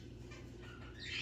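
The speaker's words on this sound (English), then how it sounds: "it's quite noisy in here with all the birds" Caged birds chirp and squawk inside a busy Goodwill thrift store, a dense, noisy chatter over steady indoor hum that grows a little louder at the end.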